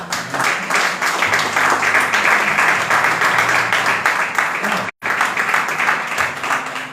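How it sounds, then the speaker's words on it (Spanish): A church congregation applauds at a Yom Kippur service, dense steady clapping filling the space for several seconds with a brief cut near the end, then continuing. "Gracias por los aplausos."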